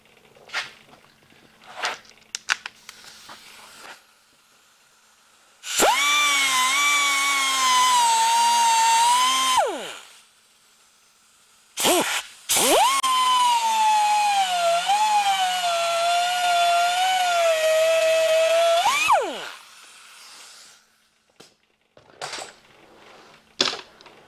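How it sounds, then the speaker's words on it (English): A power tool cuts off a bolt during a water pump replacement on a Chevy Impala 3.5L, a loud high-pitched whine in two long bursts of several seconds each, separated by brief pauses and clanks. "with that bolt right there, I'm just going to cut the rest of it off"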